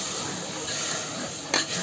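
Ingredients being stirred into milk sambar (hallu saaru) in a pan, soft scraping and gentle bubbling with a sharp clink of the spoon near the end.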